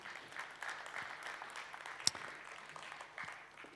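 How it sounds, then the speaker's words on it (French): Faint, distant applause from a conference audience at Stratégies Festival 2022, a soft wash of clapping that holds steady, with one sharp click partway through. "Clémence, on l'applaudit également."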